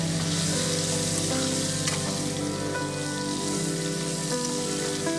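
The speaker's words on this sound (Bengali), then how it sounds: "আলুটা দেওয়ার পর আলুগুলোকে ভালো করে একটু লাল করে ভেজে নিতে হবে" Potato pieces frying in hot oil with green chilli for a Bengali chorchori, a loud, steady crackling sizzle that runs unbroken with no voices.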